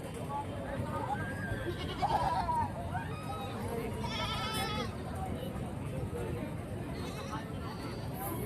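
Goats bleat in short wavering calls over a steady crowd murmur, with people chattering throughout at the busy outdoor Neknur livestock market.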